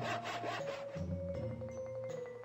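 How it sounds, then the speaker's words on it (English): A saw cuts through wood in the Flash game Neil The Nail, giving a few quick back-and-forth rasping strokes with a steady tonal hum underneath, fairly quiet and with no talk. "It says click on the saw."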